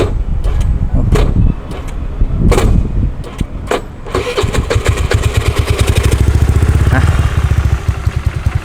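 A motorcycle with a stock AHM racing exhaust, nearly three years old, cranks with a few hesitant starter bursts, then catches and settles into a steady, loud, close idle with a rapid even thump.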